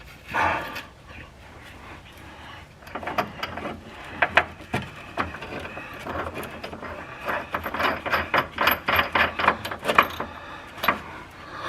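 A nylon bolt with washer is tightened during a turbocharged K20 AWD build, with a close run of quick rapid ratchet clicks and metallic jangles, faster near the end.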